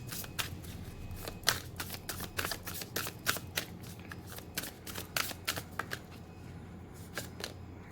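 Tarot cards being shuffled by hand, a close run of quick crisp riffling bursts in an uneven rhythm, repeating steadily for several seconds with no talking.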